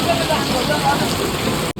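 Heavy monsoon rain pours steadily as a dense, continuous hiss close by at a shop-opening celebration in Panvel, cutting off abruptly near the end.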